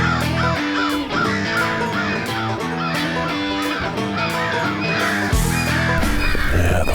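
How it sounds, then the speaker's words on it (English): A large flock of crows under big trees in Oklahoma, drawn in by a Fox Pro electronic caller, caws loudly and repeatedly from near and far, overlapping harsh calls filling the air, with a brief low thump near the end. "Yeah, the Fox Pro's brought in the crows."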